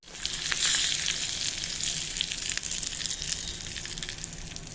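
A tempering of asafoetida and curry leaves sizzling in hot oil for green chutney, a bright steady crackling hiss close up with small pops throughout.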